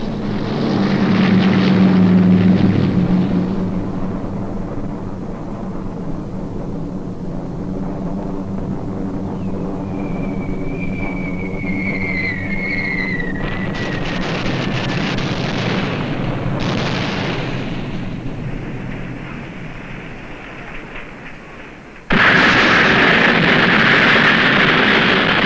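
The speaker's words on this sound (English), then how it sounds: "British bombers are sent in to put the plant totally out of commission." Droning British bomber aircraft engines roar over a heavy water plant during a wartime bombing raid, a loud continuous rumble with dull explosions and whistling descents, broken by an abrupt shift to another loud roaring stretch near the end.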